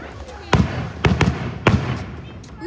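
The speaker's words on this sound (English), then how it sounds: "my old school is starting up the fireworks" Fireworks going off at a school: several sharp bangs and pops spaced irregularly over a background of crowd noise, somewhat distant, with people talking throughout.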